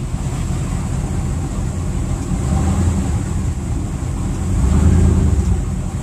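A boat engine idles at the dock and throttles up, a low, rumbling drone that swells louder toward the end, with wind and water wash around it.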